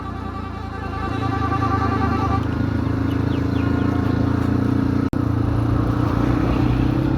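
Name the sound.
motorcycle riding on a road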